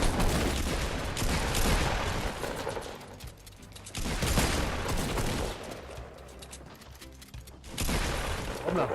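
Rapid automatic gunfire from the video game Fortnite rattles in several dense bursts separated by short pauses, loud and close throughout.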